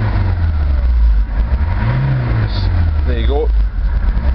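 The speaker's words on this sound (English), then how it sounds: "We left it ticking over, so you can just hear it ticking over itself." A Ford Transit 280 medium-wheelbase van engine idles steadily with a low, even hum throughout, while a person talks over it.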